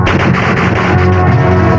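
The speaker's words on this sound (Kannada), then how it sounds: "ಮಿಷನ್ ಗನ್ ತಗೊಂಡು ಕಂಡಲ್ಲಿ ಶೂಟ್ ಮಾಡಿ ಸಾಯಿಸೋದು" A machine gun sound effect: loud, close, rapid-fire bursts of gunshots repeating in a fast, continuous rhythm with no talking.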